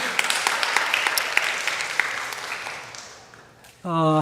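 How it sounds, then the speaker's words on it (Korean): Congregational applause at a Sunday church service, with sharp claps over a wash that fades toward the end, then a voice begins speaking. "박수 다시 한번 하고요"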